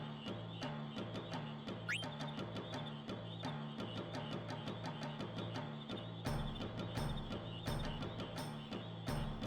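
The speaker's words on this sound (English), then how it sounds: "How did that frog get away from me?" A frog croaking in Final Fantasy 9, with quick, evenly spaced croaks repeating steadily throughout, faint and alone, over a soft musical background.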